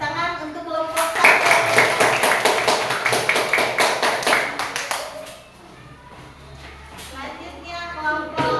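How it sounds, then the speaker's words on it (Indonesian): Classroom applause for group 1, a sustained burst of rhythmic hand clapping lasting around four seconds, moderately close, then tapering to scattered claps under children's chatter. "kita beri tepuk tangan untuk kelompok 1"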